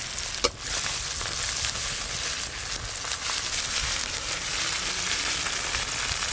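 Dried chili, chopped onion and garlic cloves sizzling in mustard oil, a steady dense crackle of frying that runs close and loud throughout, with one brief sharper pop near the start.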